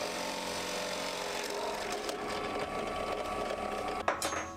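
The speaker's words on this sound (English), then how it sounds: "I found a Forstner bit that matched the diameter and drilled out the holes." A Forstner bit drilling holes through plywood for a dartboard cabinet, a continuous close whirring and grinding drone that holds steady for a few seconds before a brief clatter near the end.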